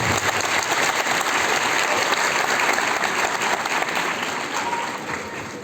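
Strong, continuous applause from an audience at a Turkish singing contest event in Erbaa as the mayor is invited onto the stage, even and full throughout, fading slightly at the end.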